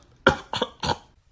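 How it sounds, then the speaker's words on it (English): A voice actor coughs three times in quick succession, each a short harsh burst, close and clear against a quiet background. "it quickly turned into coughing up more blood"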